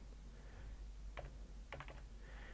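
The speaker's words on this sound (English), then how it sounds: "I'm going to type in my unit ID number" A computer keyboard clicks softly as a unit ID number is typed, with two short bursts of keystrokes, one single tap and then a quick cluster, against a quiet hum.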